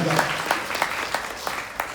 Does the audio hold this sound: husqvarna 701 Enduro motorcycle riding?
no